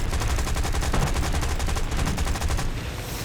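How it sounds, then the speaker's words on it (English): Aircraft machine guns in the War Thunder video game fire a loud, rapid continuous burst of rhythmic shots for about three seconds, then cut off abruptly. "let's see if I can shoot some guys down here"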